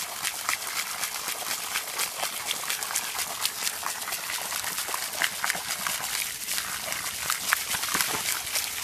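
A pig splashes and stirs water in its muddy wallow as a hose fills it, producing close, continuous sloshing and bubbling with scattered wet slaps.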